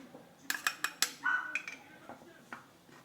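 Dry ingredients of flour, cocoa powder, baking powder and salt get mixed in a bowl for chocolate crinkles, with a few clinks and taps of utensil against bowl, close and fairly quiet, then soft scraping.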